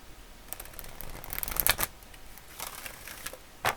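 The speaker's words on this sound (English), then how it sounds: "let me shuffle one more time" Quick bursts of card shuffling, a few riffles in a row, the loudest in the middle and one sharp flurry at the end, with no voices.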